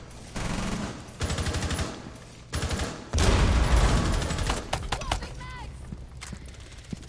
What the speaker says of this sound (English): See how good at tap firing?